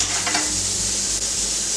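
Onions and chilli fry in coconut oil in a pan, giving a loud, steady sizzle with a light stirring scrape, close up and with no talking.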